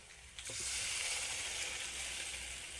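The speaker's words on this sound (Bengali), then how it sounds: "তারপর সামান্য পরিমাণে জল দিয়ে মশলাটা ভালোভাবে কষিয়ে নেব।" Water poured into a pan of spice masala frying for a fish curry sets off a sudden loud hiss that stays steady and close after a short quiet start.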